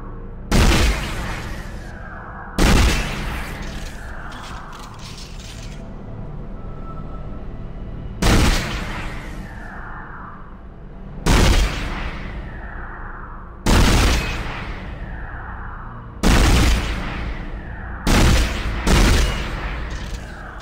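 Plasma cutter shots in Dead Space ring out as about ten sharp, loud discharges at irregular intervals, each followed by a ringing, descending electronic tail over a steady ambient drone.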